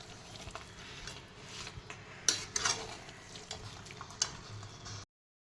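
A spoon stirs chicken curry in a pan, with soft scraping and light clinks against the metal and a faint sizzle underneath, close by, ending abruptly in silence.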